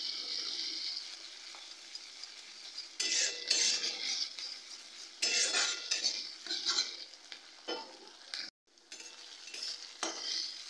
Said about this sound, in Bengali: আদা রসুনের পেস্টটা দিয়েও 30 থেকে 40 সেকেন্ড নাড়াচাড়া করে নেব